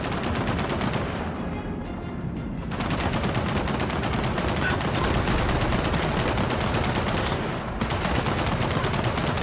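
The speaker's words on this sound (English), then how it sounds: "Machine gun nest!" Sustained machine gun fire in the shooter Gears of War 4, a dense, loud, relentless rattle of rapid shots with a short pause near the start and another near the end, no talking.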